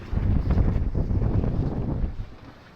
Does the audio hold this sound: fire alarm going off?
no